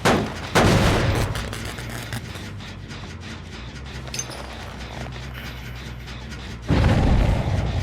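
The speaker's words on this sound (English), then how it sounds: "That thing she just threw down is a firecracker" Firecracker thrown down in Dead By Daylight: loud booming bursts at the start and again near the end, with a crackling, rumbling tail between them.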